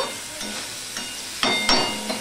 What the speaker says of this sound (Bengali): নুনটা দিয়ে আমি বেগুন আর শিমটাও ভেজে নেব।